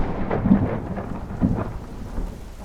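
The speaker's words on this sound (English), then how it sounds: "I woke up on day 2 to the sound of pouring rain on the roof." Heavy rain pours onto a roof while deep thunder rolls in two low swells, a steady wet hiss underneath throughout, no voices.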